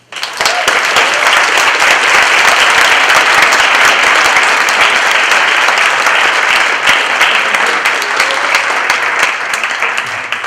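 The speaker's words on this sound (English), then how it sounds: "One more power clap for Cameron." Loud, sustained applause from a conference audience rises right after a keynote speech ends, a dense wash of clapping that holds steady for about ten seconds before easing slightly.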